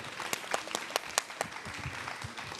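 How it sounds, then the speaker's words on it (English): A series of sharp, evenly spaced claps ring out at a caregiving panel discussion, about one every fifth of a second, over a low hum, fading toward the end. "Let's give a huge, warm round of applause."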